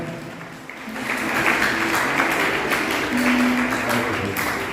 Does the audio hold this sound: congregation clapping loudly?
yes